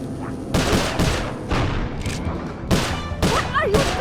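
Gunfire in the Sly Cooper: Thieves in Time video game comes in several loud, close bursts of rapid shots, separated by short gaps, with game effects and bits of character voice mixed in.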